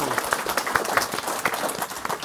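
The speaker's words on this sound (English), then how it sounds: "Can I have a round of applause for Thank you very much. Gervase Williams," Audience applause at a live investor show, a dense patter of clapping from a seated crowd filling the short stretch at moderate level, with no voices rising above it.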